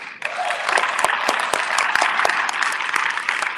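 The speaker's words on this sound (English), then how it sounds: "Have a round of applause for you all." An audience at a network marketing talk breaks into sustained applause, a steady wash of many hands clapping at full volume that lasts the whole stretch with no talk over it.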